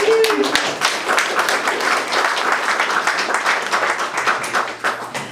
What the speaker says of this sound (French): Je crois qu'ils mériteraient une bonne main d'applaudissements, n'est-ce pas?